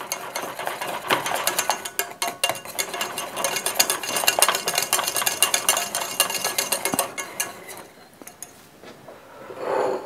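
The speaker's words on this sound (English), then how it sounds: "Give that a stir in, or a whisk in as the case may be." Whisk beating Worcester sauce into a cheese sauce in a pan for Welsh rarebit, a steady run of fast metallic clicking and scraping against the pan, close and continuous, fading near the end.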